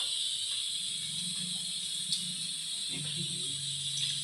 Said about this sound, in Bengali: তো দেখো আমার এটা ভাজা হোক।